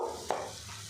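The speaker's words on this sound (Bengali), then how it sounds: "টমেটো এইভাবে তিন থেকে চারবার উল্টে পাল্টে একটু ভাজা ভাজা করে নিতে হবে" Green tomatoes sizzle in hot oil in a pan, a steady close frying hiss with a brief stirring scrape partway through.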